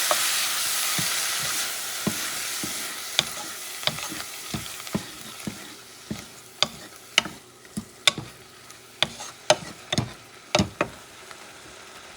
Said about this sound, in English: I'm going to saute this baby together for a few seconds